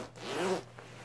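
The zipper on a Canada Goose MacMillan parka is pulled in one quick, close, rasping stroke lasting under a second, quiet and alone.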